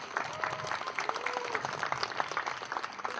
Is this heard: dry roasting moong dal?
no